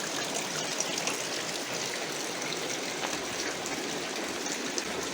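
Rainwater trickles and patters into a container left out in a garden, a soft, continuous wash of drips and splashes with no talk.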